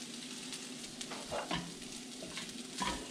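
Cashews and raisins fry in a hot pan, a steady soft sizzle with a few stirring scrapes and clinks over about three seconds, no voices.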